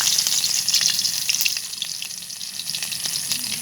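Chopped garlic sizzles loudly in hot mustard oil in a heated wok, a steady bright crackle with scattered pops that eases slightly toward the end, no voices over it.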